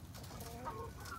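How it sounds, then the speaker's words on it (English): A big, heavy, fluffy Buff Orpington rooster gives a few soft, low clucks, close by and fairly quiet over steady background rumble, with no voices. "This is Biff Tannen, our resident rooster. He is a big dude."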